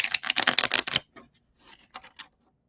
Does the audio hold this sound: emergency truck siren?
no